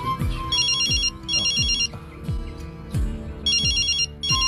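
A phone rings with a musical ringtone of bright, repeating bell-like chimes set over a bass-heavy beat, loud and close, cycling in regular bursts with no voices over it.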